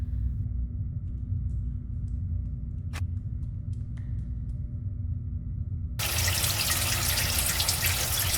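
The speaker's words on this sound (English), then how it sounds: "This tap seems to be working." A tap running in the Still Life 2 game. At first there is a low, steady hum with a few faint clicks. Then a loud, hissing rush of water starts suddenly and keeps flowing close by.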